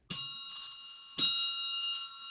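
A bicycle bell rings twice, each sharp bright ding followed by a shimmering ring-out, close and clear with nothing else around it.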